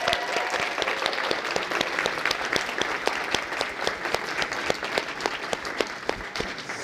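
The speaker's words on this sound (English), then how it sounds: "So give everyone a round of applause." Sustained applause from an audience at a DoDEA Teacher of the Year awards ceremony honoring the 2026 Teachers of the Year, steady dense clapping filling the room throughout with no speech.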